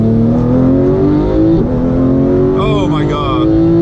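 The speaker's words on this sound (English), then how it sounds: "Let me just open the exhaust, put PDK in sport." A 2017 Porsche 911 GT3 with its exhaust valves open and PDK in sport mode pulls hard, a loud, steadily rising engine note droning on for several seconds, with a voice briefly speaking over it near the end.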